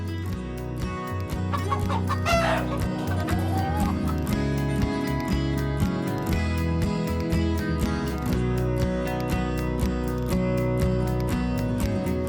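Chickens on a large free-range farm cluck and call repeatedly, the flock sound sitting under a steady bed of music that runs the whole time.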